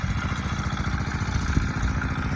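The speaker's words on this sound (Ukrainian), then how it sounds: "і наш друг товариш тракторець" A small tractor engine runs steadily on a village vegetable-garden plot, giving a close, continuous low chugging clatter with no speech over it.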